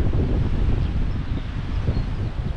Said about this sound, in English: It's bloody windy.